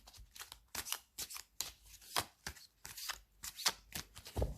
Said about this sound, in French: Donc, on va bien les mélanger. Alors, elles se mélangent très bien